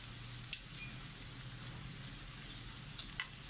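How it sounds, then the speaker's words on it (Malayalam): Quiet, steady sizzle of chopped onions frying in a pan for Kerala-style beans thoran as they are stirred, with two sharp taps of a spoon against the pan. "ഉള്ളി ഒന്ന് വാടി വരുന്നവരെ നമുക്കിതൊന്ന് ഇളക്കണം"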